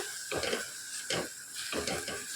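Food being stirred in a cooking pan for a Tamil home recipe, with a spoon scraping in three or four rhythmic strokes over a constant background sizzle, close and moderately loud.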